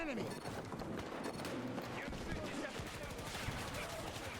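Full-auto gunfire in the video game Battlefield 2042 rattles in quick repeated bursts, fairly quiet and mixed under a person talking over it.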